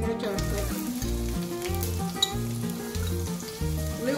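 Onions hit hot oil for a Kerala-style cheera parippu (spinach and lentil) curry, giving a steady, close sizzle throughout beneath rhythmic background music.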